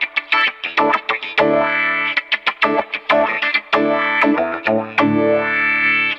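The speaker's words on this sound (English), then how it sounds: "It gives you another kind of wah effect, and sometimes I use the reversed envelope like this." Electric guitar played through a wah envelope filter pedal set to reversed envelope, with choppy plucked notes and short phrases whose tone sweeps and swells, loud and close with no talking.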